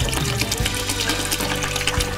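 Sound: pouring alcohol slowly while stirring, for homemade soap

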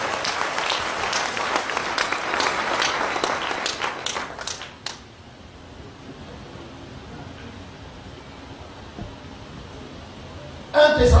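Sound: church congregation applauding

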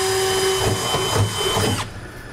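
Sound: power drill drilling through truck bed and plastic bed liner

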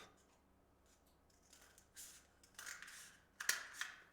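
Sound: scissors cutting a tube lengthwise

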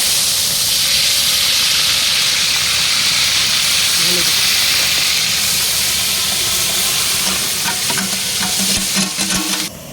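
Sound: paneer frying in white oil

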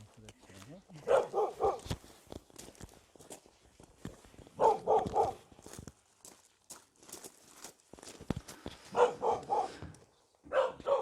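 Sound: dogs barking at a country house

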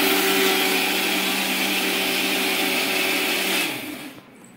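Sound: mixer grinder grinding dosa batter

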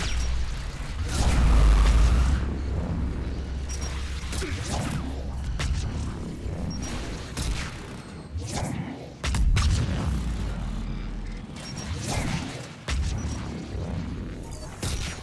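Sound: cannon blast shockwaves in a video game

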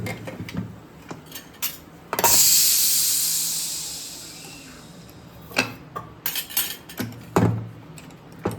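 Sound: pressure cooker whistle being released, steam hissing

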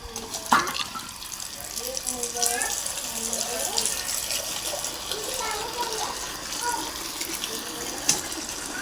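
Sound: water running from a tap

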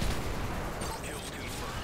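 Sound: airstrike explosions in a video game

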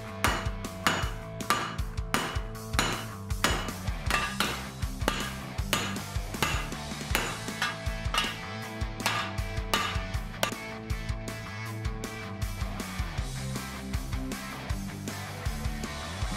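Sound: hammering texture into a homemade steel cleaver blade

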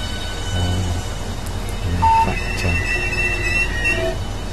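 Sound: train running on rails, from video game Train Simulator

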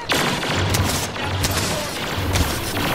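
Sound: blaster gunfire in the video game Star Wars Battlefront

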